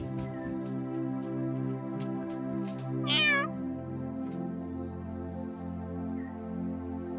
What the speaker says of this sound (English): The cat's under the table and Athena is trying to play.